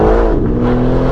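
Loud, close BMW M4 engine revving with a deep, steady harmonic drone filling the whole short moment, no speech over it.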